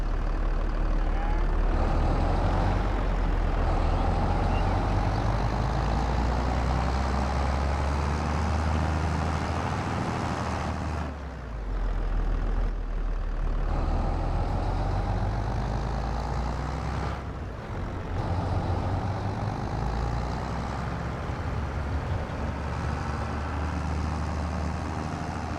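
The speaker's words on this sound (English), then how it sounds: "So we'll go and take this up to the allotments in the new tractor." A 1984-era Ford tractor engine from Farming Simulator 22 droning steadily as it drives, a continuous loud low rumble with brief dips in pitch and volume.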